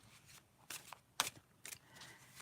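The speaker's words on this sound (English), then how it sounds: "I'll shuffle these big old cards." Large stiff tarot cards riffled and shuffled in several quick bursts, soft and close, with quiet pauses between each flurry.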